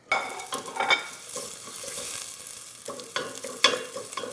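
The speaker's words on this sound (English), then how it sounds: "I'm gonna add a little bit of avocado oil, and then I'm gonna toss in my peppers and my onion" Peppers and onion hitting hot avocado oil in a pan, a bright crackling sizzle with clattering stirs and tosses at the start and again near the end, close and fairly loud, no voices.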